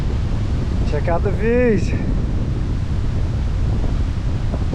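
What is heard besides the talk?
wind on a ridge in Lamington National Park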